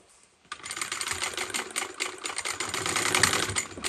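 Sewing machine stitching a seam allowance flat on a park mini backpack, starting after a brief quiet moment and then running in a fast, close, rattling burst that speeds up toward the end.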